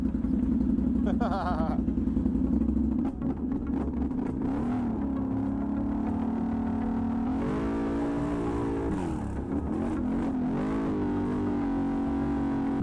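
A Can-Am Renegade 1000 4x4 ATV running a straight pipe exhaust drones loud and steady nearby, its pitch rising and falling as the throttle blips, with people talking over it.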